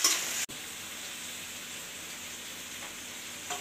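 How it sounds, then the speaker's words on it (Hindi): Onions and tomatoes fry in hot oil with a steady, fairly quiet sizzling hiss, broken by one brief dropout near the start. "प्याज भून लिए हैं अरे जल गई तेल के छिट्टे लग गए"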